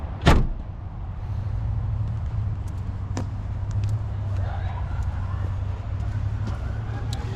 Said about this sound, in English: door just pops right open